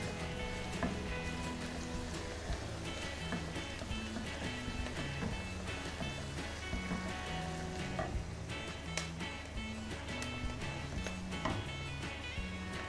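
Chopped tomatoes frying with golden-browned onions in a pan, a steady, continuous crackling sizzle that stays even and close throughout with no break and no talking.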